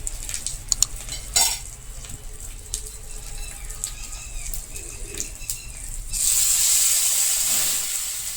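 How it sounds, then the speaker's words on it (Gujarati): Sesame seed tempering for khaman dhokla, stirred with a spoon as water is poured in: clinks and scraping of utensils over a light crackle, then a sudden loud hissing sizzle that fills the last couple of seconds. "તલ સરસ રીતે ફૂટી જાય પછી આપણે તેમાં રસો બનાવવા માટે પાણી નાખશું."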